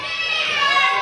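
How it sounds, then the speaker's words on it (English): Young children cheer at an indoor wrestling show, a brief burst of high-pitched, shrill crowd voices shouting together, loud and sustained for about a second. "These little children cheering Justin Bieber like they know anything."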